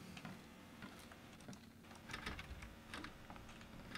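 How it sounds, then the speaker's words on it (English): Quiet, rapid clicking of computer keyboard buttons during play of Layers of Fear, an irregular run of close, soft taps. "I'm just clicking buttons."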